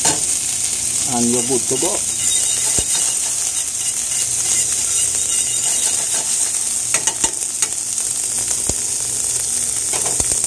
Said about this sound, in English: you just want them onion to take some color and the garlic start to release some flavors